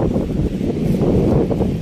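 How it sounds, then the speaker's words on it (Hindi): Wind blows by a river in a steady, loud, broadband rush that buffets the microphone, with rustling and no talk over the short stretch. "ये देखो हवा चलने स्टार्ट हो गया था।"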